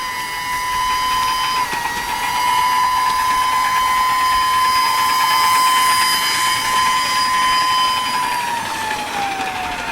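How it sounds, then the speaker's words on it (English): A working model turbine runs with a steady high-pitched whine that holds level and then slides downward near the end, over a constant mechanical whirr and rattle. "working turbine"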